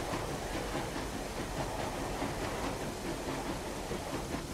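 A German locomotive in a video game rolls along with a steady, dense rumble and hiss of wheels on rails, continuous and fairly loud, with no talking.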